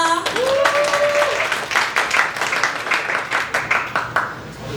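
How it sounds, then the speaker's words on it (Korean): An audience applauds at the start of a medical lecture event. A voice is briefly heard at the beginning, then scattered, steady clapping continues at a moderate level. "박수 주세요"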